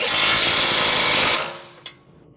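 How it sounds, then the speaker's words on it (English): A bolt is tightened at the lower strut-to-knuckle joint of a 2006-2011 Honda Civic using a 17mm socket and a 19mm wrench. A loud, steady, gritty mechanical whir runs for about a second and a half, then cuts off, followed by one sharp click. "Use a 17mm socket with a 19mm wrench. Tighten the strut to knuckle lower bolt."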